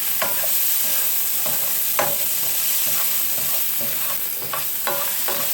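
Vegetables stir-frying in hot oil make a loud, steady sizzle, with scattered sharp crackles and stirring clatters throughout.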